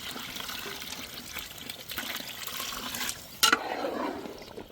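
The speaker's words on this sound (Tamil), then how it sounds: "அப்படியே அலசிய தண்ணியும் சேர்த்துக்கிறோங்க" Rinse water pours into a pan of thick chicken gravy, a continuous close trickle with a brief clinking knock near the end.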